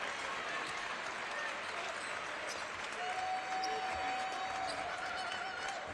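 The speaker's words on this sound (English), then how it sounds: "Appreciation from the crowd there" Fans in the crowd at a basketball game applaud steadily, clapping and cheering at a moderate distance and faint against the arena background.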